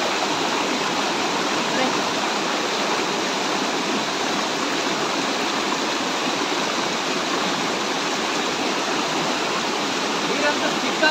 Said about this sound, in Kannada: ಇದು ಎಳ್ನೀರು ಫಾಲ್ಸ್ನ ಎಡೆ ಭಾಗ ನೋಡ್ಬೋದು.